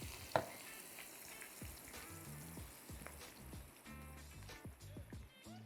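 Beetroot fries in oil with a continuous crackling sizzle, fairly quiet and steady, while background music plays throughout.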